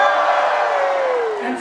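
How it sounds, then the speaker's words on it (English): A cruise ship audience cheers and whoops loudly at a celebration of nations aboard Royal Caribbean's Grandeur of the Seas, a dense roar of crowd voices that holds steady for nearly two seconds, then eases off. "make as much noise as possible, because as I go alphabetically through the countries, I expect you to cheer for every country"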